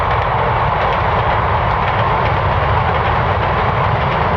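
An RTG turbotrain, the French gas-turbine express, rushes past close by in a loud, steady roar of turbine whine and rail noise that holds at full strength throughout, with no voices.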